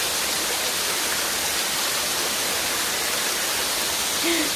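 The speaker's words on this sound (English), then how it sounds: "That's a Karekare waterfalls." Karekare waterfall in the Waitakere Ranges, New Zealand, pours in a constant, loud broadband roar of falling water, steady from start to finish with no voices over it.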